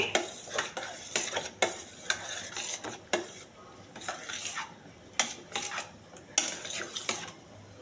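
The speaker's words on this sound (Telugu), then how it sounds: "బాగా కలపాలండి." Curd rice with apple and cucumber being stirred and mixed with a spoon in a steel pot, a steady run of close, rhythmic scraping and clinking strokes with no talk.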